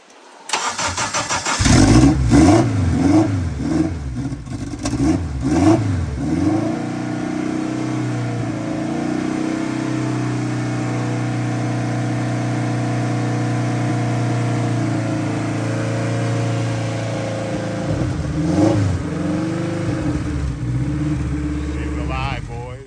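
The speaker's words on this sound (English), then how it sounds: "as you guys just seen, we got the car started" Turbocharged K-swapped Honda CR-V fires up for the first time, cranking into a loud rumbling idle with sharp revs early and again near the end, while people talk over the running engine.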